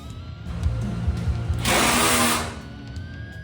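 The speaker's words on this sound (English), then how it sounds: "Now I'm just sanding down all that fiber roll with an 80 grit, getting it ready to go get sprayed." Power sanding of body filler with 80-grit paper on a 1970 Dodge Super Bee in a body shop: a low motor hum, then a loud abrasive rasping burst for about a second before it tapers off.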